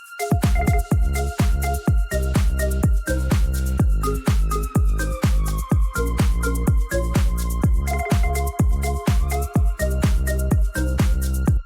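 A heavily distorted music loop pounds out steady, evenly spaced punchy hits with a gritty, saturated tone, loud and continuous, with no voices.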